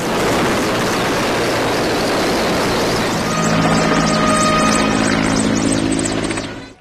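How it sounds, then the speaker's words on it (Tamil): Military helicopters fly over a government hospital in Chennai during an armed forces tribute, a loud steady rotor and engine roar throughout, with a whining drone building in the second half. "ஓமந்தூரார் அரசு மருத்துவமனை மீது பறந்த ராணுவ ஹெலிகாப்டர்கள்"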